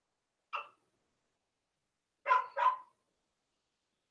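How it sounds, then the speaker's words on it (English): A dog barks alone against silence: one short bark, a pause, then a quick double bark, fairly close. "Sorry about the barking."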